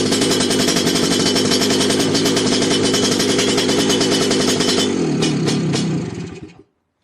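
Lambretta scooter engine with an oil seal problem, idling loud and close with a rough, throbbing exhaust as the revs creep up on their own, then cut out and fall silent near the end.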